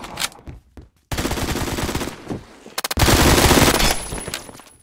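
An MP7 fires in Roblox Phantom Forces, with loud, close rapid-fire bursts separated by short pauses, the last burst longest and most sustained.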